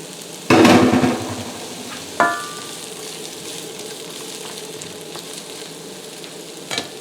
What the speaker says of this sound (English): all we're going to do is just add this to the pan and let these saute up